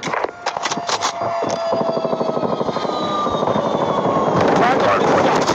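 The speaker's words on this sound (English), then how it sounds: "Friendly stealth chopper inbound." A stealth chopper in the Call of Duty Mobile video game, a loud rhythmic rotor thumping that grows steadily and closer with a descending whine, after a few sharp gunshots, with in-game voice callouts.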